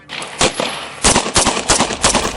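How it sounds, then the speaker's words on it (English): Loud, close bursts of gunfire in a parking lot: a couple of single shots, then a rapid volley of cracks in quick succession. "gunfire rang out in the parking lot"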